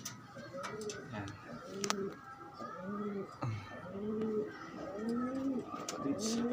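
Pigeons coo in a steady series of soft, rounded, rhythmic calls close by, with a few sharp clicks and light background noise between the phrases.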